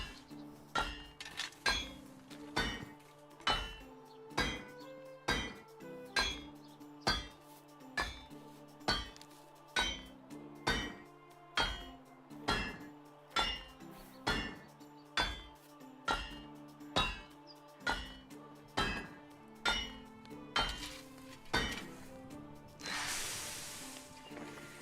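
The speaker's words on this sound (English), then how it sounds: "At least your arms don't get tired from all this hammering." Rhythmic metallic hammering on an anvil in a medieval video game, about twenty evenly spaced ringing clangs close up, ending with a brief hiss as the hot metal is quenched.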